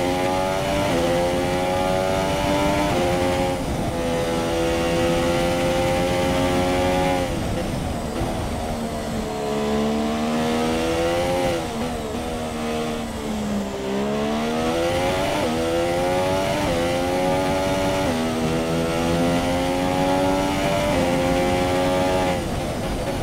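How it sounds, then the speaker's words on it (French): Onboard engine of a Force India Formula 1 car in the F1 2017 racing game at the Chinese circuit, a loud continuous high-pitched whine rising and falling through gear changes without pause. "On va laisser profiter un petit peu du moteur de cette Force India aux caméras embarquées"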